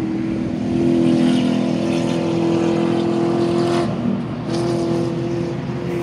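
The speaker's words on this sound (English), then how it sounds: "Lincoln Town Car, listen to this monster." A Lincoln Town Car races past on a track during a 24 Hours of Lemons event at CMP, its engine a loud, steady droning roar held at full throttle for several seconds, briefly dipping before pulling on.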